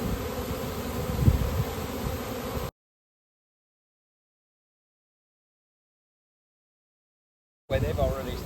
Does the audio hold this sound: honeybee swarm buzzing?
yes